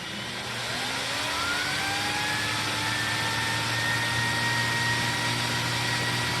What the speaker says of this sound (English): You can hear the turbo brush spinning.